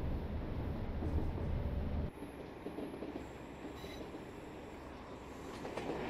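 A train runs over rails in the Train Simulator Classic video game on the Wherry Lines between Norwich, Great Yarmouth and Lowestoft, a steady close rumble and rolling roar that drops in level partway through as the track changes, with no speech.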